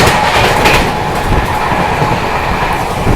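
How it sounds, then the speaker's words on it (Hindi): A Duronto Express train runs at speed while overtaking the Godan Express, giving a loud, steady rumble with rail clatter throughout, heard close from on board. "Overtaking Godan express."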